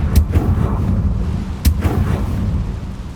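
The Confringo fire spell in the video game Hogwarts Legacy lands as two loud, explosive booms about a second and a half apart, over a rumbling low background.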